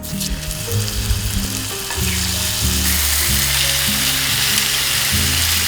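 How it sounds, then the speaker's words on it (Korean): Meat sizzles in a pan with olive oil, a loud, dense and continuous frying hiss that swells after the first couple of seconds, with steady tonal music running underneath. "고기가 구워지는 동안"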